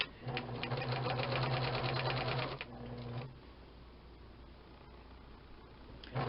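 A sewing machine stitches in a fast, steady mechanical rattle for a few seconds, then stops, leaving quiet room noise before a brief restart.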